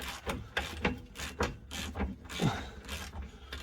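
A jammed tow bar bolt on a Crafter/Sprinter van grinds and rasps as its threads bind during removal, in repeated scraping strokes with short pauses, close and fairly steady.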